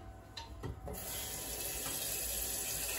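Tap water runs into a pot, ready for a chestnut and chocolate flan, first in a few brief splashes and then in a steady, close pouring stream, with no talking.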